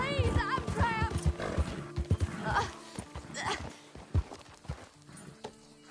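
A horse in a PS4 video game whinnies and snorts amid clip-clopping hooves, with a voice mixed in, close and lively.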